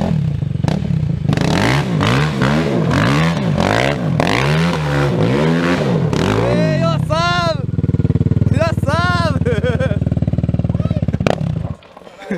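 Honda LTR 450 quad bike engine revving hard in repeated rising and falling surges, then holding a high steady drone before cutting off. The engine is loud and close, and voices call out over it.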